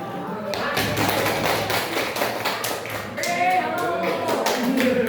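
Children in a classroom coding and AI lesson clap their hands in a quick burst, close and fairly loud, with scattered taps and thumps and some voices mixed in.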